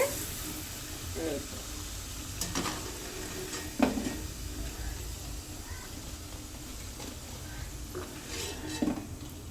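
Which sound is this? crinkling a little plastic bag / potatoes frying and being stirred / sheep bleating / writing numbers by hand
potatoes frying and being stirred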